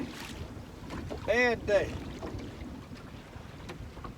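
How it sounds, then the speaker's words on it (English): Strong, cold wind buffets the microphone with a low, rough roar throughout during outdoor fishing, while a person briefly speaks over it. "it's cold today and windy. Really windy."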